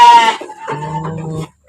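Sheep and goats at an Indonesian livestock farm let out loud, close bleats, one after another in a brief burst, with no talk over them.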